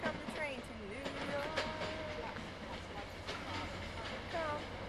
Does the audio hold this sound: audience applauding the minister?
no